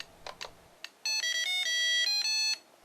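A Mattel Electronics Soccer handheld game plays a short electronic melody of bright beeping square-wave notes for about a second and a half, after a few soft clicks of buttons.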